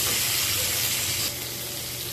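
Onion and green chillies sizzle loudly in a pan with ginger and garlic, a bright, steady frying hiss that drops a little in level partway through, heard close up without speech.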